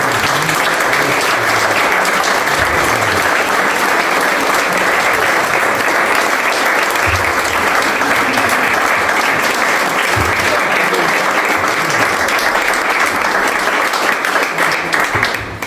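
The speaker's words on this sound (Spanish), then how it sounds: "todos le debemos tributar pues," Sustained, dense applause from an audience at a book presentation for a translation of Don Quixote, steady and loud throughout, with faint voices underneath.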